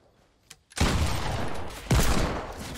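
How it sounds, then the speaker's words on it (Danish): Gunfire in the Fortnite video game: a faint short crack, then a loud sustained burst of shots, with a second heavy blast near the end and no speech. "Der er et skud der."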